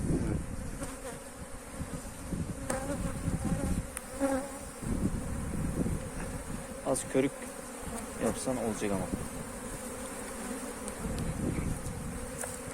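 A steady, dense buzzing of many honey bees around a hive being transferred fills the air, with individual bees droning close by, while someone speaks briefly under the hum.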